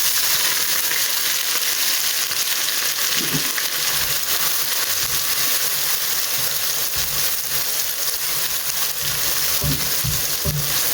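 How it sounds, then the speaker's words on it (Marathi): Chopped onions frying in a pan with a cinnamon stick, cardamom and cloves, a steady close hiss and sizzle throughout with a few soft knocks of stirring. "आनी हांव घालता फायनली चॉप्ड ऑनियन्स."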